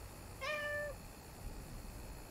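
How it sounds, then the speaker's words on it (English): A cartoon kitty meows once in the video game Little Inferno, a single clear, close mew standing alone over a faint background hum. "Lol Kitty. Kitty, kitty, come here"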